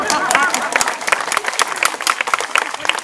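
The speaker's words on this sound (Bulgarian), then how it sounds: "Благодаря ви за аплодисментите." An audience applauds at a live evening show, a dense burst of clapping heard up close, with a voice speaking over the applause.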